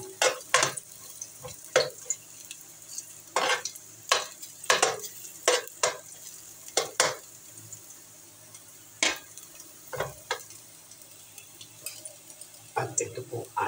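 A small amount of cooking oil sizzles faintly in a pan for tilapia, broken by sharp clanks and scrapes of a utensil stirring against the metal, with a voice now and then.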